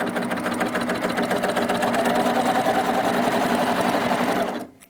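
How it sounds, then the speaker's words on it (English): Baby Lock serger stitching a test seam, a steady rapid mechanical whir running close and loud for several seconds before stopping abruptly. "I'm going to test my stitch."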